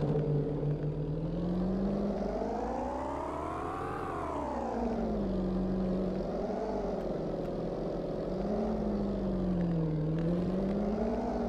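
A loud car engine revs in the car-dealer video game Auto Sale Life, its tone rising and falling in repeated swells as it drones continuously and close, with no talk over it.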